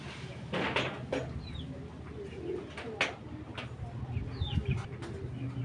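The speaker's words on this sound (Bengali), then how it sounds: "এটা হলো বিডিং কবুতর" Racing pigeons with golden eyes coo softly in a loft, low throaty calls repeating close by amid faint rustling, with a voice talking now and then over them.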